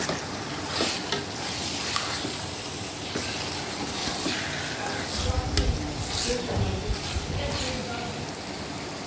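Chicken pieces go into a pan of cooked spice masala for a Bengali-style chicken curry, a loud continuous sizzle and fry with stirring scrapes, close by, while a person talks over it.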